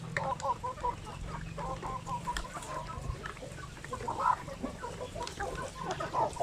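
Chickens cluck in a flock penned outdoors in a fenced setup, with busy, overlapping clucks and soft calls running steadily throughout over a low background rumble.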